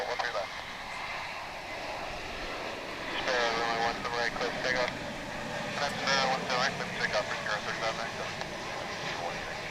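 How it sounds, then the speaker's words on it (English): A Volaris passenger plane arrives at DFW International Airport, its distant engine rumble lying under people talking nearby. "we got a Volaris flight coming in"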